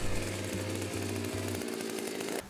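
A power earth auger bores holes in the ground for a terrace footing, its motor a steady loud drone with a pulsing low rumble that settles as the bit slows near the end, with no talking.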